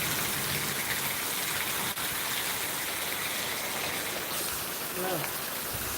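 Heavy rain pours down in a dense, continuous hiss and patter that fills the whole stretch. A brief voice surfaces faintly under the downpour near the end.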